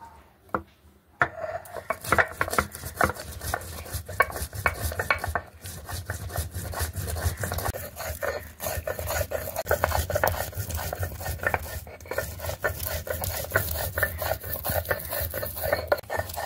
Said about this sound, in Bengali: জিরেটা বেটে নেব শিলনোড়ায়।